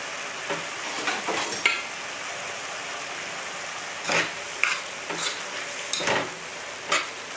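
Callaloo and cabbage with hot Scotch bonnet pepper being stirred in a sizzling pan, a steady fry hiss broken by several sharp scraping strokes of the spoon against the pan, close and fairly loud, with no talking.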